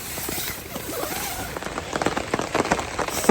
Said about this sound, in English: 4 hours of heavy rain